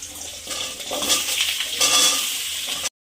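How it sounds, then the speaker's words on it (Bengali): Kuyash fish fries in hot oil tempered with chili and black cumin, giving a continuous hissing sizzle with swells of crackle for about three seconds before it cuts off. "লঙ্কা কালো জিরে একটু ফোড়ন দিলাম কুয়াশগুলো ভালো করে ভেজে নেব"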